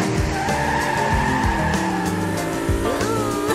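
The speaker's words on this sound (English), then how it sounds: "Kitty's off and ready to race in his speedy green racing car." A cartoon green racing car speeds off, its tires squealing and skidding loudly under a revving engine, with rising and falling whines throughout.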